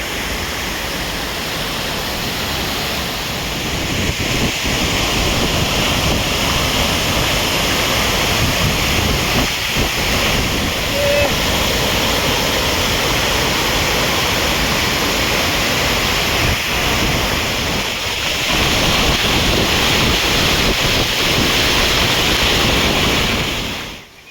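A rain-fed waterfall in Andhra Pradesh roars in a broad, steady rush of falling water, loud and close, with faint gusts of wind through the long stretch.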